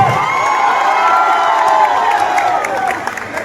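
A large crowd at a musical evening event cheers and applauds loudly, voices blending into a sustained roar that starts fading toward the end.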